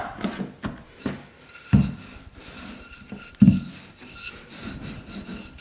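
Puff pastry dough being stretched and rolled out for mille-feuille, giving soft rubbing and scraping strokes with two heavier thuds, close up and with no talking.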